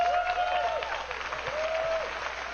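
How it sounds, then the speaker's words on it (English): An audience at an Apple iPad price announcement applauds and cheers, a brief burst of crowd noise with tonal whoops rising over the clapping. "And the crowd cheered."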